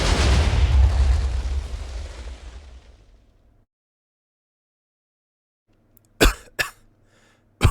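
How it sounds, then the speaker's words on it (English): A deep, rumbling TNT explosion in Minecraft opens loud and broad, then slowly decays into silence, followed later by a couple of short sharp bursts. "So much fire and explosions."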